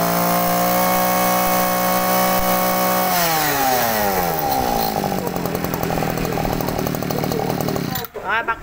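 A small two-stroke engine of an Echo 220 brush cutter running loud and close, holding a steady drone then shifting pitch as the throttle changes, ending with a sputter.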